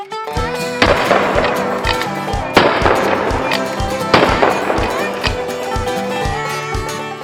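An Italian-made Navy Arms replica of a Civil War-era repeating rifle fires three loud, sharp shots about two seconds apart outdoors, each followed by a decaying echo, with clicks and clatter from the action being worked between them.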